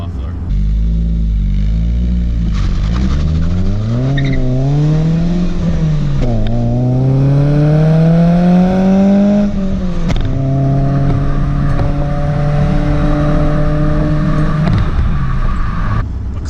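A 1988 BMW E30 M3 straight-four with a stainless Stage 2 cat-delete exhaust and ANSA muffler revs repeatedly, the loud close engine note climbing in pitch, dropping back and rising again, steady and dominant throughout.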